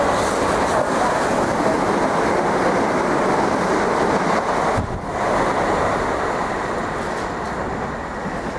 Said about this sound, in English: The train approaching platform 2 has not stopped yet.